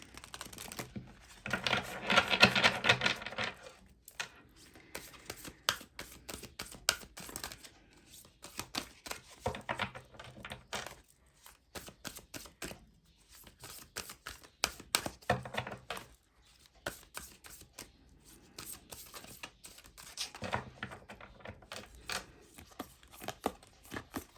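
Oracle cards for a tarot reading being shuffled and drawn, giving close bursts of crisp riffling and card flicks in repeated rapid clusters with short pauses between them.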